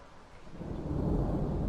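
A low, deep rumble of thunder swells and builds over under two seconds, broad and rolling without any voices.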